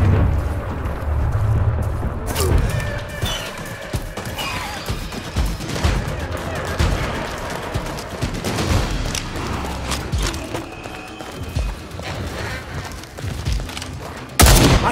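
Weapon fire in the video game Second Extinction, a dense, sustained fusillade of shots and booms against a busy game soundscape, with a sharp loud burst near the end.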